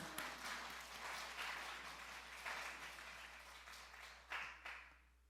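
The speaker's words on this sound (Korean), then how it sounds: "우리 박수 한번 쳐드리십시오." Applause from a church congregation during a revival service sermon, a dense wash of clapping that swells and fades in waves, heard at a distance over a low steady hum.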